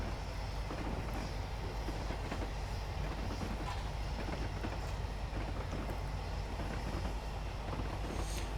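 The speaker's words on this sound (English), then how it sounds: "Allow the train to coast down the hill." Flying Scotsman steam locomotive coasting downhill with steam shut off in Train Simulator, a steady continuous rumble of wheels and rolling stock with faint rhythmic clatter, heard alone without any voices.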